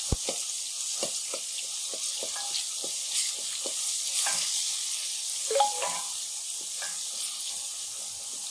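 Garlic fries in a pan for mutton korma, giving a continuous bright sizzle with soft tapping and stirring clicks and no talking.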